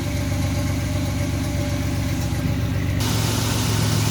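1987 Chevrolet Celebrity Eurosport fitted with a Flowmaster 40 Series exhaust idling close by, a loud, steady throaty burble that holds even throughout, with a slight shift in tone near the end.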